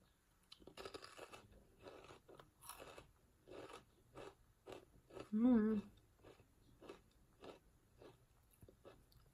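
Sharp, dry crunches repeat at a steady pace as a sweet South Korean spiral snack is chewed up close, with one brief vocal sound in the middle.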